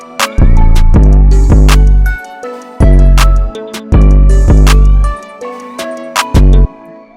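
A mixed hip-hop beat plays loud and steady, with punchy kick and bass hits in a repeating pattern, crisp hi-hats and a melodic layer on top.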